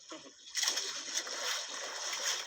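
A strong river current rushes and splashes close by in a continuous, bright churning wash of water that swells slightly in places.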